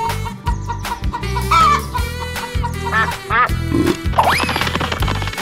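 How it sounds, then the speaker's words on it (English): A chicken clucks in repeated short calls over steady, loud backing music and other animal sound effects, all close and dense with no pauses. "Chicken."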